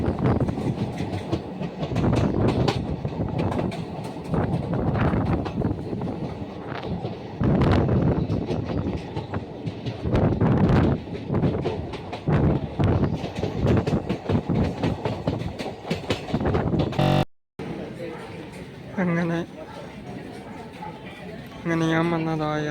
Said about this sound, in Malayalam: അങ്ങനെ ഞാൻ വന്നതാ ഏറനാട് എക്സ്പ്രസ് മാഹിന്ന് പോവാണ്